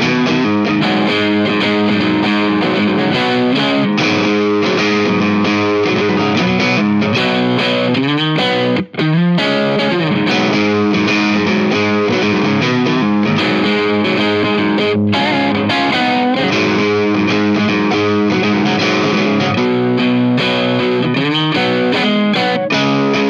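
Overdriven electric guitar through a Harley Benton Tube15 amp with a Celestion Greenback speaker plays chords and riffs, thick and crunchy, with one brief pause midway.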